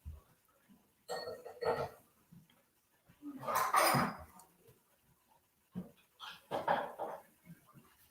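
Several dogs barking indoors in short bursts separated by quiet gaps, with a few yips mixed in, moderately close and fairly faint.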